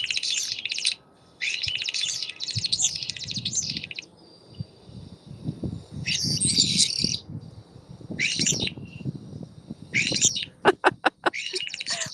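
A flock of starlings calls in bursts of whistles, chirps and electronic, droid-like squeaks, with some sharp clicks near the end, fairly close over a low rumbling background and no talking.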